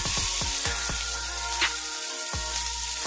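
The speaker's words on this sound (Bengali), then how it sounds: "এই সবগুলো ভালো করে ভেজে নেব" Onion, ginger and green chilli fry with cumin in hot oil, sizzling loudly and continuously while regular scraping stirs cut through in a steady rhythm.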